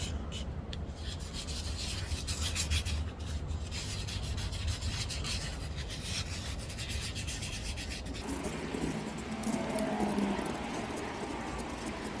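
Continuous close rubbing of polish by hand around repaired knobs on an antique red cedar chest of drawers, a steady scratchy swishing that softens in the final seconds.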